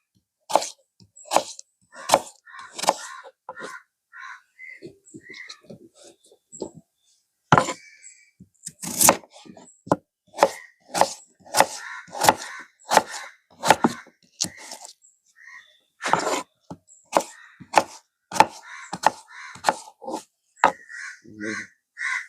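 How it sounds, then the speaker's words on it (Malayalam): Knife chopping potatoes lengthwise on a board, a long run of sharp, close, irregular chops with brief pauses, loud and clear with no talking. "നമുക്ക് നീളത്തിൽ കട്ട് ചെയ്തെടുക്കാം"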